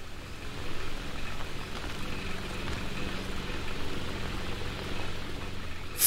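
Steady rain falling in the jungle survival game Green Hell, a continuous even wash of drops on surfaces at moderate volume, with no voices.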